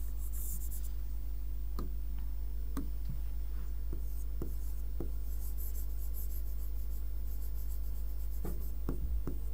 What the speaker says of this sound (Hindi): थोड़ा सा इधर लिखते हैं